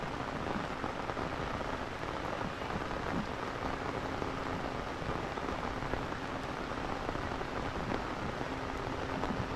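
Steady rain pours in the countryside, a dense, even hiss of drops striking surfaces, fairly soft and continuous with no voices.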